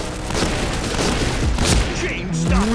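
Gunfire bursts in the Point Blank shooting game, sharp repeated shots under loud, continuous talk from a player throughout.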